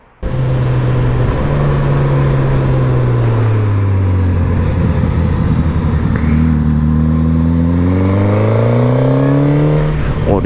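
A Suzuki GSX-S 1000 motorcycle accelerates out of a curve, its loud, close engine note holding steady, dipping and then climbing smoothly in pitch through the gears under rushing wind noise.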